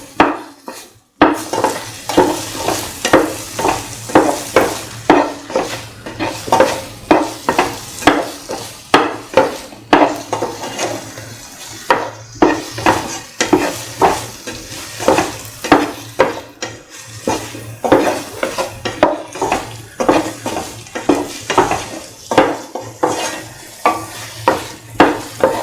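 A plantain and rice mix is sautéed in a pan, with rhythmic scraping and stirring strokes of a spoon against metal over a soft sizzle, steady and close for a long stretch.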